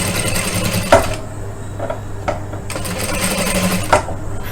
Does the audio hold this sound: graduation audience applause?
no